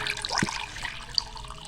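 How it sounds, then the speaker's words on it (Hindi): Lukewarm water poured into a bowl in a home kitchen, a short, close splashing trickle with a small clink near the end, without talk. "और सबसे पहले हम एक बाउल लेंगे, इसमें हम नीम गर्म पानी शामिल कर देंगे।"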